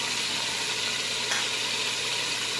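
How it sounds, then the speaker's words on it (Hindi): Spices with ginger, salt, turmeric and curry powder frying in a pan for mixed vegetables, a steady dense close sizzle throughout without talk. "मसाले को अच्छे से भून लेंगे।"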